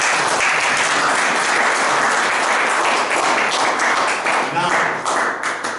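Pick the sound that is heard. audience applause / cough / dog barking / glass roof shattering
audience applause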